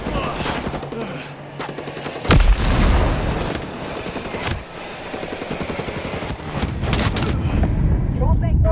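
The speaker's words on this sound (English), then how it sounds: "Enemies attacking with mortar." Enemy mortar fire and gunfire erupt in Ghost Recon Breakpoint: steady rattling automatic fire, a single heavy boom, and further bursts building toward the end, with a voice talking over the combat.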